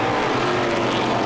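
A Dodge stock car in the 2018 NASCAR Pinty's Series, the number 74 car, roars in a loud, continuous on-board engine drone at racing speed.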